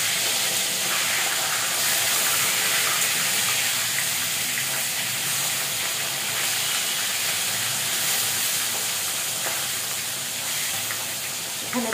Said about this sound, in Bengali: মাছটা এক পিঠ হয়ে গেছে, উল্টিয়ে দিচ্ছি।